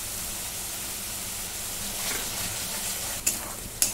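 A spiced curd and masala mixture for Maharashtrian shev bhaji sizzles steadily in a hot pan, a continuous hissing fry with a couple of sharp spoon taps against the pan near the end.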